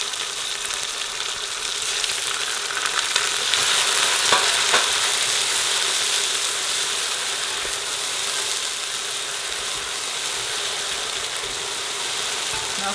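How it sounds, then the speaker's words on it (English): Ginger garlic paste with a splash of water frying in a pan for an Anglo-Indian lamb ball curry, giving a steady, close hiss and sizzle that runs unbroken throughout with no talking. "My ginger garlic's been frying for 3 minutes now."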